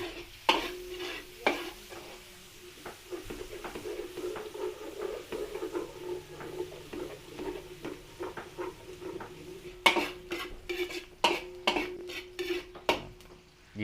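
Garlic and onion sautéing in a pan, a continuous sizzle broken by repeated clinks and scrapes of a spatula against metal, denser clatter toward the end, close by with no talking.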